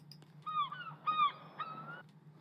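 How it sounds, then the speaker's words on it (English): Seagull calls play as ambient bird sound in an Unreal Engine 4 game, giving three or four short, distinct cries over a faint low hum. "we have some bird noises here for that, so we use some seagulls."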